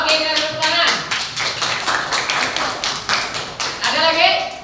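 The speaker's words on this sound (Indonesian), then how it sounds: "Oke, kita tepuk tangan." A classroom of students clapping hands together in a rhythmic, patterned sequence of sharp claps, loud and close, with a brief pause before a final burst of claps.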